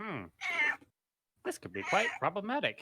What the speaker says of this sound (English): We have cat. Sorry about the cat.